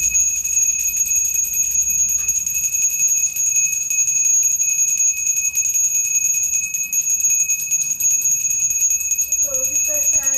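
A small hand bell rings steadily during a Gauri puja at home, a bright sustained metallic tone that keeps going throughout, with people talking faintly in the background.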